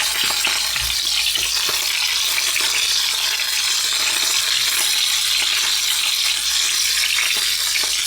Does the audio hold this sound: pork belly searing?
yes